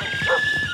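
A dog in the stop-motion film Isle of Dogs gives a brief, close, high whimpering yip, a single short vocal sound heard on its own.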